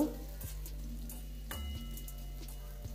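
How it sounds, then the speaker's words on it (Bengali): Carrots for fried rice sizzle in hot oil with whole spices in a pan, a steady close frying hiss broken by a few soft stirring scrapes, with no voices. "তারপর প্রথমে দেবো গাজরটাকে আমি ভেজে নেব"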